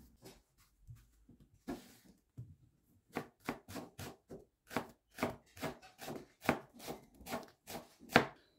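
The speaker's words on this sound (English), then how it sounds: "finely slice 3 medium onions." A knife slices three medium onions finely on a cutting board in a home kitchen: sparse taps at first, then a steady run of crisp, evenly spaced chops, close and clear with no talk.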